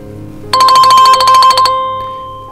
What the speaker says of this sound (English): we get a notification